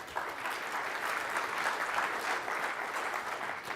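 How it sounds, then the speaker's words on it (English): A tech tutorial audience applauds as a presenter walks up to speak, producing a continuous, even patter of clapping from a room of people that lasts several seconds at moderate loudness. "I just like a little applause when I walk up."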